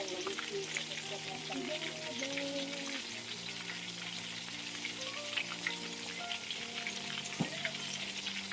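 Steady crackling sizzle of fermented sour fish (pla som) frying in a pan, with faint voices and a few tonal clinks in the background.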